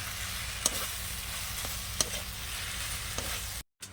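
A spatula stirs kochu (taro) leaves with fried mourala and puti fish in a pan, steady sizzling and frying with a few distinct scraping knocks of the spatula at intervals, close by, followed by a brief gap.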